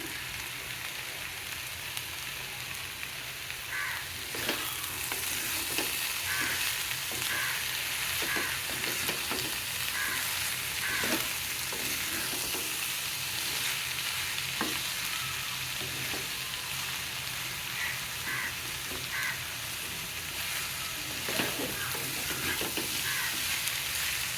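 Beetroot, potato, tomato, poppy seed paste and white sesame sautéing in a pan, with a steady close sizzle and repeated scraping, clinking stirs throughout.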